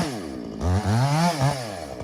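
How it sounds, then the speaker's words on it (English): Close, loud chainsaw engine revving up and down while cutting into a large cedar on a steep forest slope, with a rising and falling whine. "Using a chainsaw, he makes horizontal and diagonal cuts"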